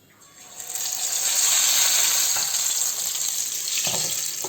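Cauliflower sizzles loudly and steadily in hot oil close by, a continuous bright crackling hiss that swells in and holds.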